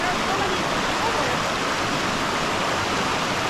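Stream water rushes steadily at a trail crossing on a long-distance wilderness hike, a dense, loud, continuous wash filling the whole moment with no break.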